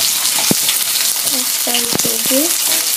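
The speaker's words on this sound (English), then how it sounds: "when the oil heats up, we're going to go ahead and add in the onions." Onions frying in hot oil in a pan for instant noodles, a steady close sizzle running under a person speaking briefly, with a couple of sharp utensil knocks.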